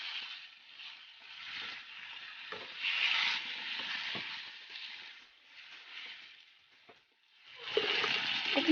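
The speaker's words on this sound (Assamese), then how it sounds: "এইখিনি মই এতিয়া এনেকৈ লৰাই অলপ সময় ভাজি ল'ম।" Chicken tossed in a pan of masala fries with a continuous close sizzle, interrupted by frequent scraping and knocking of a spoon as it is stirred, with a louder burst of sizzling at the end.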